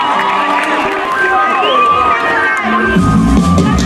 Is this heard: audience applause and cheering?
yes